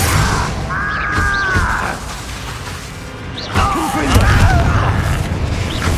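Spell explosions in the video game Hogwarts Legacy: booming blasts with ringing magical whooshes, clustered in two bursts with a quieter stretch between.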